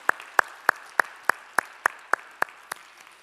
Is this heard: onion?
no